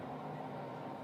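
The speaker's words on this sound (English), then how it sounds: "And that's the fan." A bathroom extractor fan runs steadily with a constant broadband hum and whir, near and unchanging, with no talk over it.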